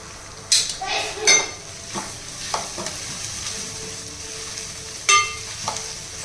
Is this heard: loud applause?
no